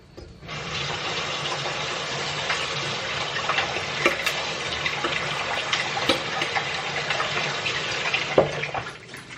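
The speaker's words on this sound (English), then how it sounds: "Ginger. Let's wash it." Ginger being washed under a running kitchen tap: a steady, close hiss and splash of flowing water lasting several seconds, with small irregular spatters as the root is turned under the stream.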